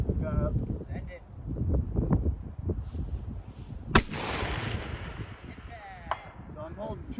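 A single sharp rifle shot cracks from a long range precision rifle at an outdoor range, one loud report standing out amid breezy wind noise and low murmuring voices nearby.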